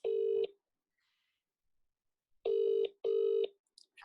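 An outgoing phone call rings out unanswered: loud, buzzing ringback tones sound in three pulses separated by silence, with no voices.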